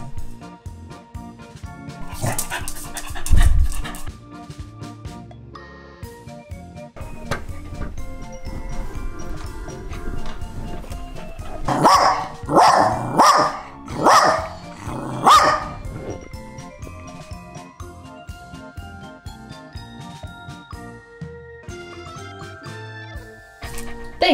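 A dog barks in a quick run of four or five loud yaps, with sparse quieter sounds and a few scattered thumps before and after.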